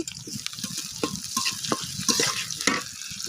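Dried puti fish sizzles in a pan with slit green chillies, a steady crackling fry broken by a few sharper scraping stirs, close and moderately loud with no talking.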